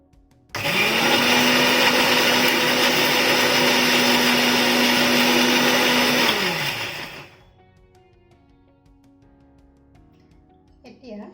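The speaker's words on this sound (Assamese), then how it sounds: "এইখিনি মই এতিয়া পিচি লওঁ। তাৰ কাৰণে মই অলপমান পানী দি দিছোঁ।" A mixer grinder grinds taro root into a paste with a little water, a loud, steady whirring whine for about six seconds that winds down and stops, leaving quiet room noise.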